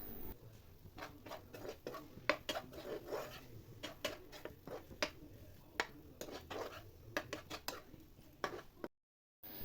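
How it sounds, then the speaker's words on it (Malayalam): A spoon or spatula stirring okra masala in a pan makes quiet, irregular clicks and scrapes, faint and close with no voices, before dropping to silence just before the end. "എന്നിട്ട് ഒന്നും കൂടെ നന്നായിട്ടൊന്ന് മിക്സ് ചെയ്ത് കൊടുക്കാം."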